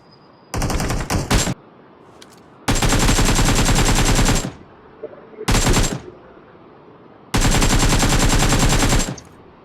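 Automatic gunfire from the PUBG Mobile battle royale game, several long loud bursts of rapid shots separated by short quiet gaps, with no talking over them.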